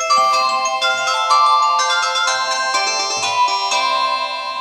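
A Mobistel Elson EL560 dual-SIM Chinese phone plays its startup ringtone, a loud, bright electronic melody of stepped tones that runs steadily on its own with no talking.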